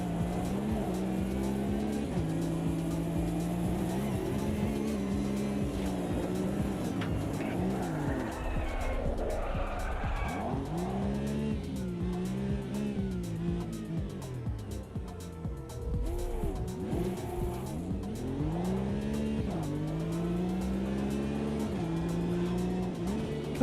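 Porsche race car in the Automobilista 2 sim, its engine howling up and down through repeated gear shifts and braking, with tire squeal, loud and continuous.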